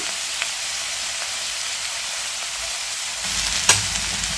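Broad beans (chikkudukaya) fry in a pan with a dense, steady sizzle that holds throughout, growing slightly fuller near the end with one brief clank, close and alone with no speech.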